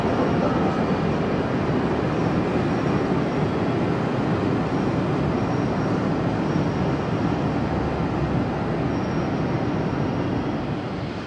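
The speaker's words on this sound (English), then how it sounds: "After dropping off some of the passengers, the locomotive continues on to Bristol." Clan Line, the bulleted, polished steam locomotive numbered 28, rumbles steadily across the Kennet and Avon Canal on its way toward Bristol, a loud continuous roar of wheels and train noise filling the scene without a break.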